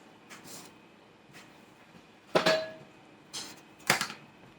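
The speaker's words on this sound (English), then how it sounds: "Set my cast iron skillet over here" A cast iron skillet is set down on a kitchen surface, giving a couple of sharp, close metallic knocks with smaller taps between them in an otherwise quiet room.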